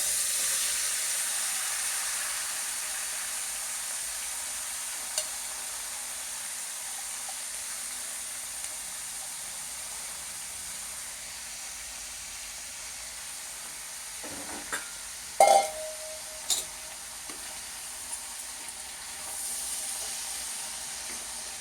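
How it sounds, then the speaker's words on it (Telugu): Snake gourd pieces and curry leaves fry in a pan with a steady, soft sizzling hiss that holds throughout, broken near the end by a couple of sharp clinks and scrapes of stirring. "కరివేపాకు, తర్వాత ఈ పొట్లకాయ ముక్కలు దాంట్లో వేస్తాను."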